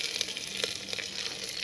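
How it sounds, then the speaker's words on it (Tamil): Curry leaves sizzle in hot oil with a steady, bright hiss and scattered small pops and crackles, close by and fairly loud. "எண்ணெய் காஞ்சிருச்சு கடுகு போட்டாச்சு அடுத்து கறிவேப்பிலை போடுறோம்"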